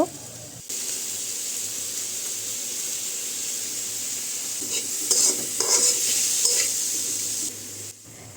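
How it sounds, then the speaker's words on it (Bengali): Tomatoes and a packet of Maggi masala are stirred in a sizzling pan for spicy pasta: a continuous hiss under a burst of scraping, clattering spoon strokes near the end. "এখন ভালো করে নেড়ে চেড়ে এগুলো মিশিয়ে নেব"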